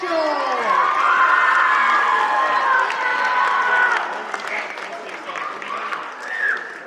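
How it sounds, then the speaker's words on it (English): At a seventh-grade school awards assembly, a crowd of students claps and cheers for several seconds, loud at first and then thinning out, with scattered shouts and voices mixed in. "Give them a round of applause."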